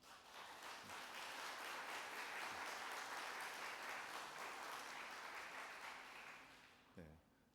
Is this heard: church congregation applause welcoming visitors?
yes